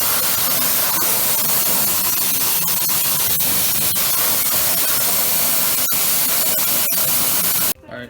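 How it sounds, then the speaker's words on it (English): Air compressor spray gun hisses as it sprays paint onto a part after rust removal, a steady, loud, unbroken spray running for several seconds before cutting off abruptly at the end. "So you can also dry paint with the air compressor far away"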